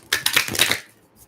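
Tarot cards are riffled and shuffled by hand in a quick, crisp burst of papery clatter lasting under a second, then fading into near silence.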